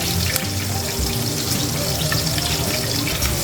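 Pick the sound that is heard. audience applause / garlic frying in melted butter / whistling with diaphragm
garlic frying in melted butter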